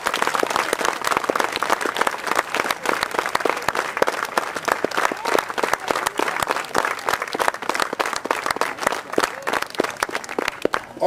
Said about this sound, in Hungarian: És kérem, hogy őket is tapsoljuk meg ezúttal.